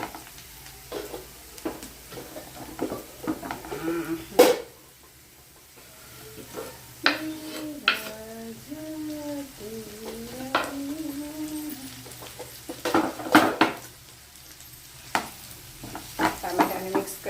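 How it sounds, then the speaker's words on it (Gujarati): Tomatoes sizzle and fry in a pan while a utensil stirs them for a paneer dish, giving soft scraping strokes and a few sharp taps against the pan, close and moderately quiet. "ટામેટાને મિક્સ કરી લઈશું"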